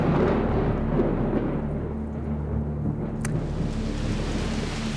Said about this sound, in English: With the wind comes the rain.